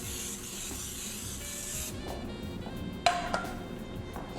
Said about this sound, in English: So we'll spray that, and we're gonna spray that generously.